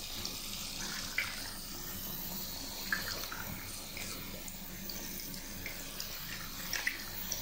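Hot water runs steadily from a tap to rinse blue marker out of embroidery fabric, a faint, even splashing with a few small drips and knocks.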